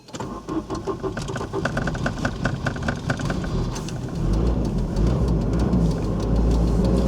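A Volvo 940 Turbo engine cranks with a few rapid starter pulses, catches, and settles into a loud, steady, close idle rumble.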